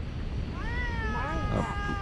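Cats meow repeatedly near a car at the Bhumibol Dam in Tak province, waiting to be fed pork alongside dogs; several drawn-out rising and falling cries overlap over a steady background hum.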